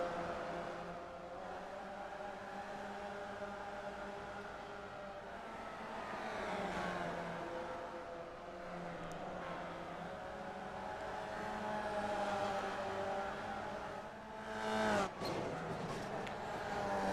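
Race cars from the iRacing game's TNT Promotions Free Vee Series drone steadily with layered engine tones that rise and fall. A sharp loud burst comes near the end.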